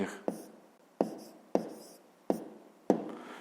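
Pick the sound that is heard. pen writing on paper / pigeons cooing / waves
pen writing on paper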